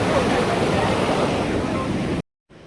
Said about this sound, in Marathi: प्यारी नदी आहे, एक नंबर